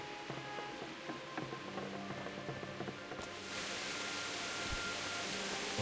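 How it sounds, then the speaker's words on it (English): Rain falls in the medieval video game Kingdom Come: Deliverance as a steady hiss that swells suddenly partway through into a heavier, louder downpour, with faint scattered game sounds beneath. "It's really raining."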